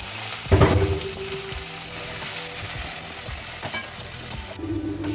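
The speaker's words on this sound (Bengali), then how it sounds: "তারপরে এবার সবজি ভাজা হচ্ছে।" Vegetables fry in a pan for khichdi, giving a loud, close, continuous sizzle with a few stirring clatters and no talk.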